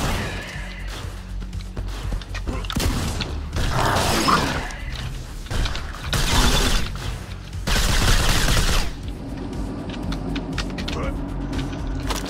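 Grenade launcher fired repeatedly during a live-streamed video game, heavy explosive bursts arriving in a loud cluster of blasts with mechanical clatter and game noise between them.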